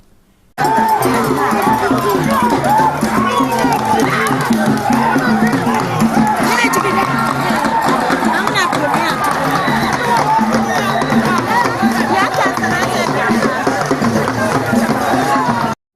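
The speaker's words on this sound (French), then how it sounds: "les milliers de jeunes expriment leur joie par des acclamations au vu des belles chorégraphies des porteurs de la canne initiatique" Thousands of young people cheer and shout at an initiation ceremony featuring dancers carrying initiation canes, a loud, continuous outdoor crowd roar with mixed voices and whoops that starts abruptly and holds steady throughout.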